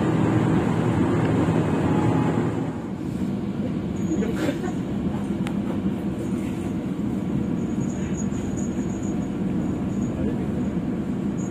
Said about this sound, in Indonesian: Kereta api Gaya Baru Malam Selatan telah tiba di stasiun Cikarang